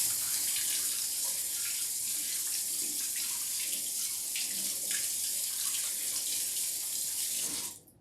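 Water runs from a kitchen tap in a steady, close hiss while hands are washed, with faint splashing and clatter, before the flow cuts off at the end.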